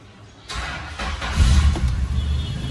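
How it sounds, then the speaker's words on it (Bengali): A Toyota Estima car engine cranks and catches on the first try, settling into a low, steady idle that swells slightly after starting; close and clear, with no talk. "স্টার্ট দিয়ে দিই, দেখবেন এক টোকে স্টার্ট"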